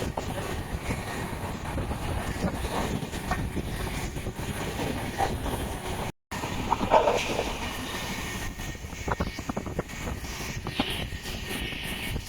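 Uttarbanga Express train running on the rails from Sealdah toward New Jalpaiguri, a steady loud rumble with faint rhythmic clatter toward the end and one brief dropout midway.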